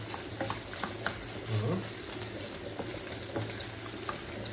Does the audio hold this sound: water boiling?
yes